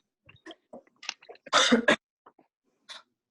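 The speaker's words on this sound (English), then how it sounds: "That's a nasty sounding cough you have." A harsh, raspy cough bursts out once near the middle, with a few softer throaty sounds and small noises scattered around it, close to the listener.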